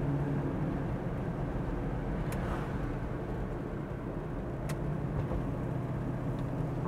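Cabin of a 1967 Pontiac GTO cruising at 55 mph, a steady low engine drone mixed with road and wind noise, continuous and even throughout with a few faint clicks.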